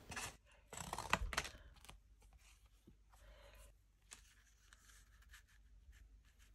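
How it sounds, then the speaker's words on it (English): Scissors snip through paper postcards marked out in pencil, a few quiet crisp cuts and rustles of paper at close range. "then I'm just cutting them out with scissors."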